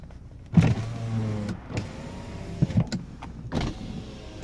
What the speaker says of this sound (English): All the windows work in this car.